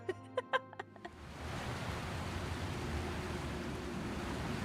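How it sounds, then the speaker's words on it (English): A waterfall in the game Oblivion Remastered: after a few short clicks, a steady, broad rushing roar of water sets in and keeps going unbroken at an even, moderate level, with no talk over it. "It is behind the waterfall."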